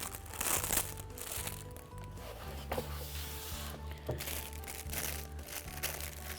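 Close crinkling and crunching of cardboard and plastic packaging as a box is opened, with scattered rustles and soft thumps.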